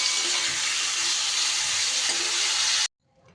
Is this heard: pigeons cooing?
no